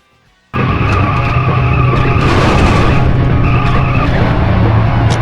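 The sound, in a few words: car boosting and racing in video game Hot Wheels Turbo Racing N64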